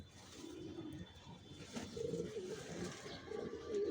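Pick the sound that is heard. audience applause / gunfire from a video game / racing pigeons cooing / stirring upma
racing pigeons cooing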